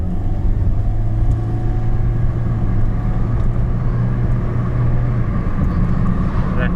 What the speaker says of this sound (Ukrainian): бачимо, дуже швидко автомобіль розганяється і одразу, як бачите, бензиновий двигун у нас е, гасне